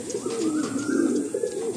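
A molting Madrasi or Malwai pigeon with deep purplish feet coos in a steady, continuous run of low, throaty calls, close and fairly loud, with no talking.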